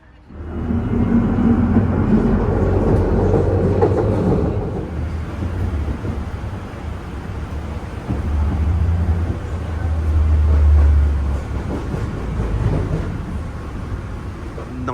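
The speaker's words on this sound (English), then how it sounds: "Nice little tram ride to rest my legs there." Tram ride across Wrocław, Poland: a loud rumbling roll of wheels and motor from inside the car, swelling and easing over several seconds with a heavier surge midway.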